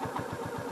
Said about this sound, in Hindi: थोड़ी नॉकिंग आ रही है